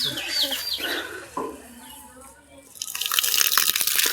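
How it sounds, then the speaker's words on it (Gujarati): Water runs from a tap at a hand-washing station at a wedding venue, a steady bright splashing that rises and fills the last second and a half, with people talking in the background before it. "તો પાણી ચાલુ કર ને ભાઈ"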